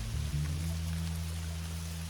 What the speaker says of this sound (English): it's about to start raining heavy